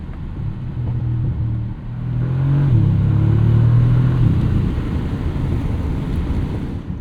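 A 671 hp V8 in a 2027 Bentley Continental GT S coupe accelerates in manual mode, its exhaust swelling into a deep, loud rumbling drone with wind noise, then easing to a steady cruising roar.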